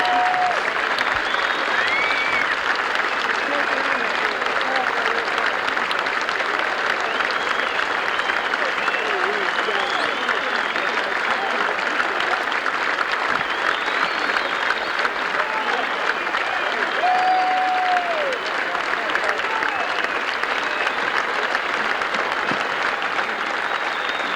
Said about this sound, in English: whistling in America is a cheer